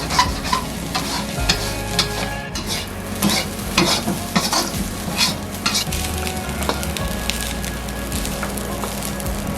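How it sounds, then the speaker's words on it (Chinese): Ham and egg fried rice is stir-fried in a wok at a small mountain village eatery, with loud continuous sizzling and rapid scraping and tossing of the spatula against the metal, close up and with no talk. "听到那个滋滋的声音，我就觉得应该很好吃"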